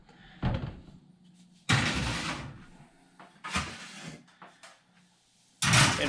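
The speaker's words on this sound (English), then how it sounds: "All right, so in the oven we go here." Chicken wings are loaded into an oven with several close, loud clunks and bangs of trays and the oven door, separated by quieter handling sounds.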